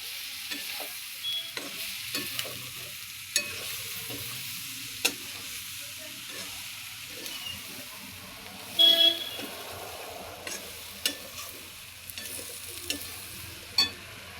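Vagharela pav, tempered bread pieces, being stirred and fried in a pan, a soft steady sizzle broken by intermittent scraping clicks of a spoon, fairly quiet with faint background noise.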